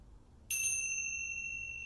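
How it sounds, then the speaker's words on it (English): A single bright metallic chime from tingsha bells rings out, clear and high, then sustains and slowly fades without interruption. "ring the Tingshas"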